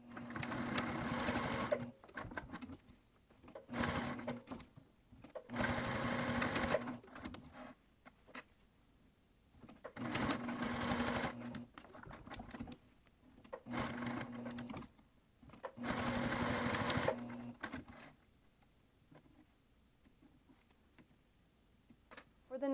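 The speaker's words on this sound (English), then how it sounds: "I'm going to sew these little boxes on the end" A sewing machine stitches small boxes onto a D-ring anchor piece for a wristlet, running in about five short rapid bursts of close mechanical clatter separated by quiet pauses.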